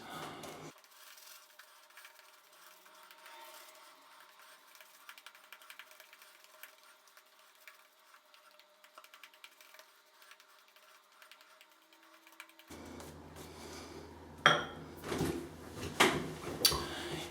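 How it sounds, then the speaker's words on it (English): Lather being worked up with a Semogue 830 brush, likely against Zi Peppino soap: a soft, steady rubbing and swirling, mostly quiet, that swells into louder, brisk bursts of whipping near the end. "let's get lathered up for the second pass."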